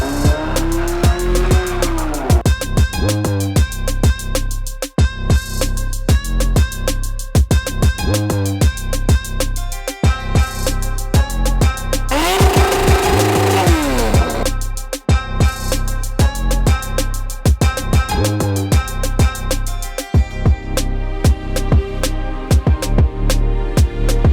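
A 1995 Kawasaki ZXR 750, a 750 cc four-cylinder sport motorcycle, is blipped repeatedly, sharp rising and falling revs close by, with short pauses between bursts.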